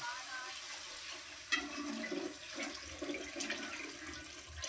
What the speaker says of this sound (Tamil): தண்ணி கொஞ்சம் ஆட் நிறையவே தேவைக்கான அளவுக்கு ஆட் பண்ணிக்கோங்க